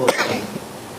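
A single short cough, close and fairly loud, fading quickly into quiet.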